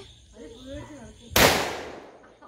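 A firecracker bursts at an Eid celebration with one sharp, loud bang that rings out and decays slowly, following a stretch of quieter background voices.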